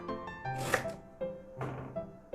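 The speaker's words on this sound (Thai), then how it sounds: "หั่นลูกนี้หั่นได้ประมาณ 8 ชิ้น" A knife chops a fruit into about eight pieces, giving a few sharp, separate cuts against a board at close range, with no talking.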